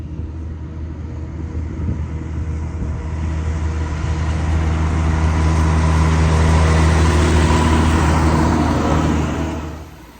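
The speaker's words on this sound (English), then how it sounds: "This tractor goes about 12 miles an hour, I think, when you're mowing." A John Deere 4040 tractor mowing hay drones loudly and steadily up close, its engine rumble swelling slightly and holding constant before easing off at the end, with no talk.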